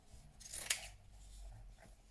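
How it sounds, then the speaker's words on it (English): Big scissors cut through Hessian fabric in one short, crisp, rasping snip close by, with quiet room tone around it. "I am going to use my Hessian again. So like that. And my big scissors."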